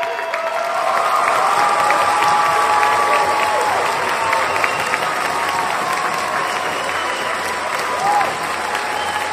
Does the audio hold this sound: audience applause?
yes